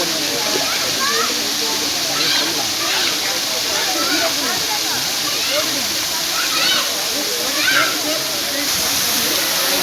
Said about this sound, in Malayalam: ഞാനിപ്പോൾ കോതയാർ വാട്ടർഫാൾസിൻ്റെ അടുത്തെത്തി കേട്ടോ